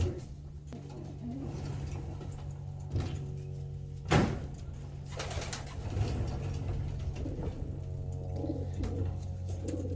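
Soft, low pigeon coos repeat in a lazy rhythm nearby, with a couple of sharp knocks and rustles in between.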